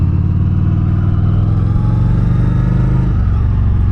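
A Honda Shadow Phantom 750 cruiser engine drones close up while riding, a steady, loud, throbbing exhaust note that shifts slightly near the end as the throttle changes.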